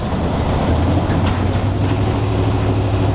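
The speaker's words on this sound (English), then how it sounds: "So that's what you're hearing is the linkage back there." Steady low rumbling road noise from inside a moving old Ford Bronco, with faint intermittent metallic rattling from the tailgate linkage at the rear, no voices.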